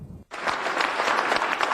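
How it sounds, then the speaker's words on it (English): Rousing applause in city council chambers breaks out after a brief quiet moment, then continues as dense, steady clapping from many people at close range. "Rousing applause in council chambers for Antoinette Mendoza and Angela Armenta"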